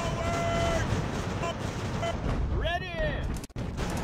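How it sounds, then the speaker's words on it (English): Artillery fire in the naval battle game Ultimate Admiral: Age of Sail, a dense rumbling barrage of booms and crackling blasts that fills the clip, with a brief sharp dropout near the end. "that was a direct hit from their artillery"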